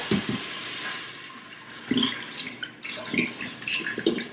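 Water pours and splashes into an Instant Pot with rice in a few uneven bursts, close by and moderately loud, with brief pauses between.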